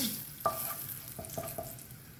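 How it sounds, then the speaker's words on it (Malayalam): Chilli powder and spices stirred in a pan over a low flame for a bottle gourd curry, with a soft steady sizzle and a few scraping stirs, faint and close. "ലോ ഫ്ലെയിമിൽ വെച്ചൊന്ന് ഇതൊക്കെ ഒന്ന് മൂപ്പിക്കാം"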